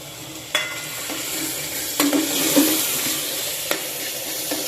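Spices frying and sizzling in a pan for homemade chicken gravy, with a steady hiss and a few sharp scrapes and knocks of a spoon stirring the mixture, close and fairly loud.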